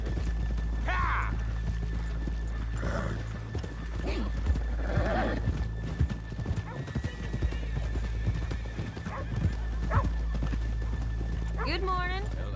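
Horse hooves clip-clop in a steady walking rhythm in Red Dead Redemption 2, with occasional snorts and a whinny near the end, set against low ambient background noise.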